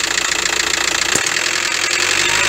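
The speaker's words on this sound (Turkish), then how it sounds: "Çıt çıt çıt çıt sesi duydunuz." A VW T5 1.9 TDI engine with a loose injector bolt runs at idle, loud and close, with a rapid, even ticking knock pulsing through its steady rumble and no talk.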